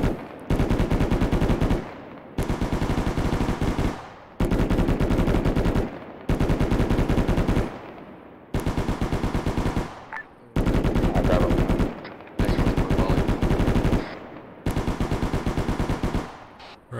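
Several machine guns fire in turn during a live-fire exercise, each delivering a long sustained burst of rapid shots, eight loud close bursts separated by brief pauses.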